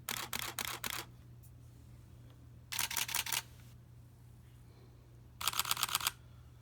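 Mechanical shutters on a Canon 6D, a Canon T7i and a Sony A7R III firing in turn: three short bursts of rapid, crisp clacks separated by quiet pauses.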